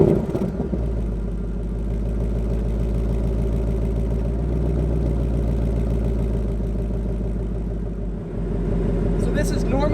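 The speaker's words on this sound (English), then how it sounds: "So I'm gonna start the car up" A Ford Mustang Bullitt V8 cranks and fires, then settles into a loud, steady, lumpy idle close by, with a brief dip near the end before the rumble resumes.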